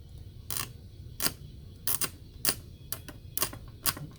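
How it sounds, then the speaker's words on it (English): A small knife scrapes the coating off the wire leads of a flow meter computer board, in short crisp strokes repeated about seven times at a steady rhythm, close and alone. "we're just going to scrape the coating off of all the leads"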